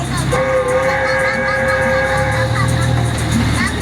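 A train carrying visitors into an animal preserve rumbles and rolls along steadily, with a sustained whistle-like tonal hum above the loud, close mechanical drone.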